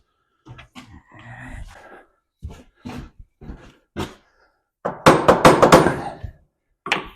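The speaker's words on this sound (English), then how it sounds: "Big hammer." Big hammer striking the torsion bar of an Optimus Prime replica truck: close, sharp metallic blows, scattered single hits first, then a rapid burst of about half a dozen strikes.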